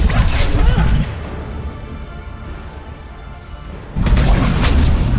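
Loud game explosions from grenades in Mass Effect 3, with heavy booming blasts at the start and end and a quieter rumbling stretch between them.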